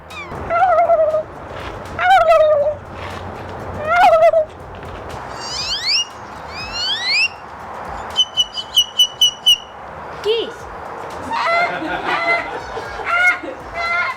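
A boy mimics a series of bird calls: clucks, rising whistles, rapid chirps and trills, delivered one after another, clear and close.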